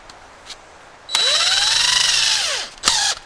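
A spot weld cutter drilling into the car body metal of a 1967 Chevelle, a loud close whine that winds up and runs steadily for over a second, then a second brief burst after a short pause.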